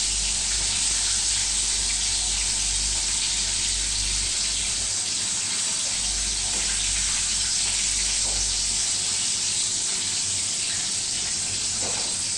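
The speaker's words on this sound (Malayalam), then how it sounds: "ഓരോന്നായിട്ട് നമുക്ക് വറുത്തെടുക്കാം" Chicken pieces for chicken chaps curry fry in hot oil with a continuous, fairly loud hissing sizzle, a low rumble beneath it and a few faint clinks, steady and close, no talk.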